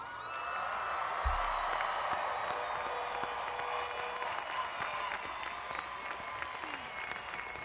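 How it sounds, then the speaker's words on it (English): A large commencement audience applauds the graduating class at San Francisco State's 2014 undergraduate ceremony, a broad, steady wash of clapping from a big crowd that holds throughout, with faint cheering mixed in. "Please join me in a round of applause for all of them"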